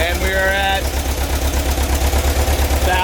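A car engine with a distributor settles back to idle, giving a steady, pulsing low rumble up close while someone talks over it.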